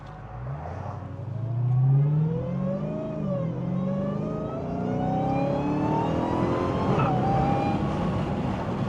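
Dodge Hellcat with its stock exhaust accelerating hard from inside the cabin, a loud rising engine note climbing through the gears with a brief wheel spin and shift, steady and close with no talking.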